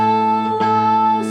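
Two guitar strings plucked together ring out as a clear, sustained interval, with a soft strum or brush near the end.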